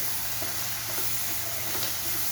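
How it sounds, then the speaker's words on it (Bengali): A spoon stirs an egg omelette curry with potatoes and spices in a pan. The food sizzles steadily up close, with soft scraping stirs over the constant frying hiss and no voices. "এবারে তরকারিটা মাঝে মাঝে একটু নাড়িয়ে দেবো।"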